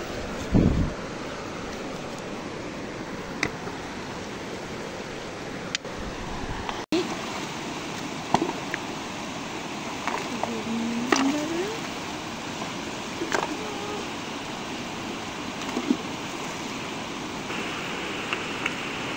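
Jhupra Khola, a stream in Surkhet, rushes in a steady broadband wash throughout, heard while fishing, with people talking intermittently over the flowing water and occasional knocks and handling noises.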